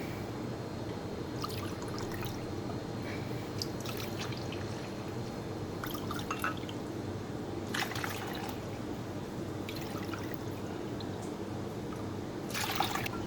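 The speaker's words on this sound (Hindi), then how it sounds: "तो अब हम इसमें 6 डालेंगे, यानी कि 1 कप का 3 गुना करेंगे तो इसमें जाएगा 6 कप पानी। तो चले डालते हैं।" Six cups of water poured into a cooking pot for making Kasuri falooda, a steady trickling, splashing flow close by with a few louder bursts of pouring.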